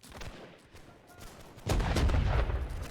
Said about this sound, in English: some of the effects, like the cannon effects, made them louder to give more of a range to everything, as you'll see in a minute when one goes off